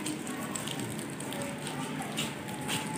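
Steady rain falls outdoors as a continuous, dense hiss with faint patters and drips, holding at an even loudness throughout.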